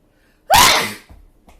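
A single loud, sharp sneeze bursts out and fades quickly, followed by a soft breath or two.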